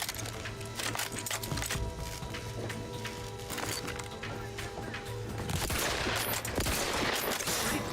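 Rifle fire in the video game Outer Worlds 2: a dense, continuous volley of rapid gunshots with sharp cracks over a constant rumbling game backdrop, loud and close throughout.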